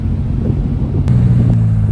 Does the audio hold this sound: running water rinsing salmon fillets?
no